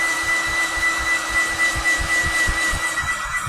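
A hair dryer blowing steadily at close range to speed-dry wet paint, a continuous whirring hum with a high tonal whine and faint pulsing as the airflow shifts, no one talking.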